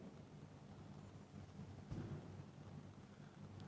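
Steady rain falling outdoors during a gathering, a faint continuous hiss with a soft low rumble rising briefly near the middle, distant and quiet with no talking.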